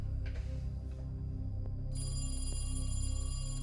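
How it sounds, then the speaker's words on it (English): A telephone rings in a kitchen, a bright repeated electronic trill sounding over a low steady hum and background music, with no voices. "The phone rings in the kitchen."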